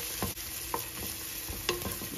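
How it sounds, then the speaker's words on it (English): Onion sizzles steadily with cumin seed in a frying pan while a utensil scrapes and stirs in intermittent strokes, close up and fairly quiet. "Now I put the onion, it's sizzling now."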